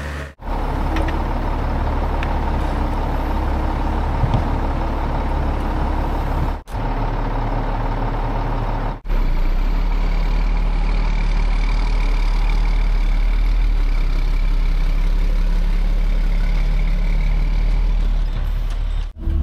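A Mack truck's diesel engine runs loud and steady on a woodland road-building site as the truck is pulled forward, with a low rumble throughout and two short breaks in the sound.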